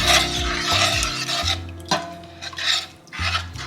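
A spatula scrapes and rasps Massaman curry paste around a pan over medium heat, producing steady close-up stirring strokes with brief pauses and no speech.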